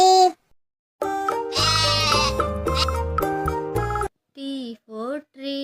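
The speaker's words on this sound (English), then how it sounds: "S for sheep." A sheep bleats several times in loud, wavering, nasal cries, the longest call stretching a few seconds, followed by shorter bleats in quick succession, close up and clear.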